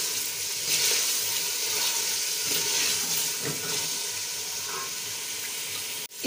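Chicken frying and being stirred in a pot for a vegetable pulao, a steady close sizzle with soft scraping of the stirring, ending in a sharp clatter.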